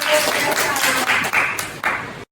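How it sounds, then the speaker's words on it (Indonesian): Applause at a school event, a short burst of clapping from a group that carries on steadily for about two seconds and then stops abruptly. "Tepuk tangan buat Bu Yunita."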